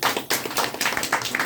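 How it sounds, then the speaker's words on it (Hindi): An audience at a community meeting in Bhagwanpur breaks into loud, close clapping, sharp irregular hand claps that rise and fall in small bursts over a moment and a half. "एक बार ज्ञानोडर्मा के लिए एक बार जोरदार ताली"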